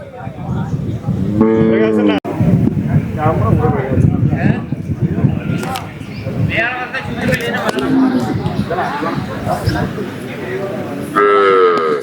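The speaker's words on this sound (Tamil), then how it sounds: "ஜெய் ஃபார்ம்ஸோட மாடுகள்." Native cattle at a country cattle market moo repeatedly, loud, drawn-out calls rising over a noisy crowd with people talking throughout.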